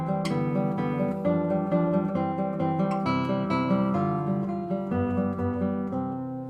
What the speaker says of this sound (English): this piece by Carcassi is used as a sort of a model